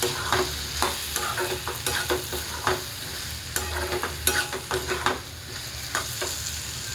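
Spoon scraping and stirring black masala into bottle gourd curry in a pan, with a soft sizzle of frying underneath and irregular, close clinks throughout.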